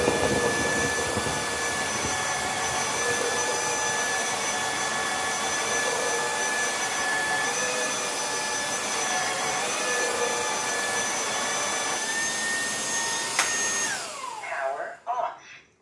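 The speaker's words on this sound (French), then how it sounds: "Et on va voir comment ça aspire." Ultenic AC1 robot vacuum cleaner suctioning, a loud steady motor drone with a constant high tonal whine that runs for most of the span, then abruptly winds down and stops near the end.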